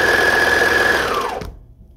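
A sewing machine stitching an elastic waistband runs at a steady whirring hum, close and loud, then winds down and stops abruptly near the end.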